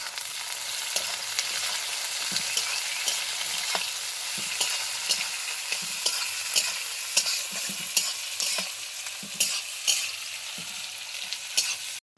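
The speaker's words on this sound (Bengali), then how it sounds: "তারপরে দিয়ে দেবো পেঁয়াজ কুচি। পেঁয়াজটাকে আগে খুব ভালোভাবে ভেজে নিতে হবে।" Chopped onions frying for biryani, a loud continuous sizzle broken by regular scraping stirs of a spatula in the pan, steady and close with no voices.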